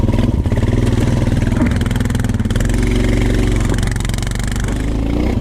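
A Honda TRX450 ATV engine runs hard in snow, a close, loud, continuous throaty drone that swells slightly with the throttle and stays strong under load, with no talk.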